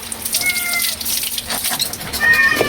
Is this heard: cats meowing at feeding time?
yes